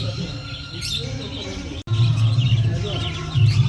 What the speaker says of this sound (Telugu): ఇక్కడ మనకైతే బర్డ్స్ ఉన్నాయి మామ, డిఫరెంట్ బర్డ్స్